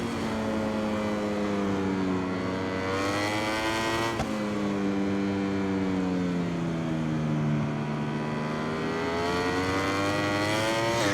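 A Moto2 racing motorcycle with a 765 engine in the video game MotoGP 21 at Losail revs and howls continuously, its pitch sweeping up and down through gear changes, steady and moderately loud with no talking.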